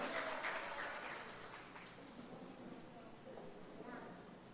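A church congregation applauds during a sermon, a broad steady wash of clapping that fades slowly over several seconds, with voices mixed in.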